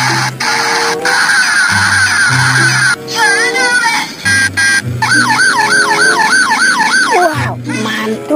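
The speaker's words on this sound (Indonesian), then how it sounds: "Ada mobil polisi patrol." A police patrol car siren wails in a loud, continuous cycling tone, alternating between steady and rapidly warbling patterns over several seconds, with no talk over it.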